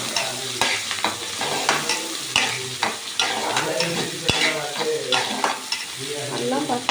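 Turmeric being stirred into ginger frying in oil, with a steady crackling sizzle and repeated scraping strokes of a spoon against the pan, close and fairly loud, no voices.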